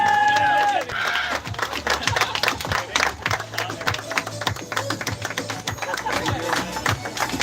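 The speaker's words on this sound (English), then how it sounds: "Everyone please clap." An audience at a parish youth football tournament claps steadily and densely for a team's trophy presentation, a loud sustained patter of many hands with a voice speaking briefly at the start.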